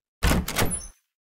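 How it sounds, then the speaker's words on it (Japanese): A guest room door in an old building swings open, a single short creak and thunk lasting under a second, close and fairly loud against silence. "トランシーバーのスイッチを切り、手近な客室の扉を開けた。"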